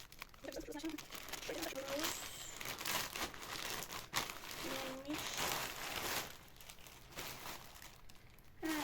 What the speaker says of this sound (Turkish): Şöyle bir paketimiz var. Hemen açayım. Şöyle bir makasım var her zamanki gibi.